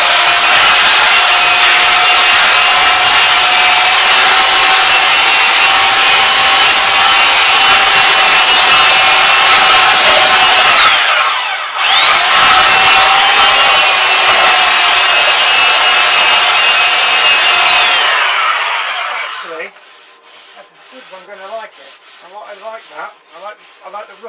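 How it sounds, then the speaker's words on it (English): Belt sander running on the top of a chest built from scrap wood: a loud, close, steady whine and grinding drone that carries on for about nineteen seconds, then cuts off into quieter clattering. "And I've got a belt sander and my goggles."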